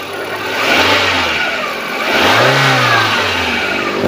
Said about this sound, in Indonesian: kemudian kita naikkan RPM, juga suaranya masih aman, masih oke